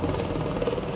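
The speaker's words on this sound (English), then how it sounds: "there's a helicopter down there taking off as well" Steady low rotor and engine drone of a helicopter, continuous and fairly loud, filling the whole moment with no talk.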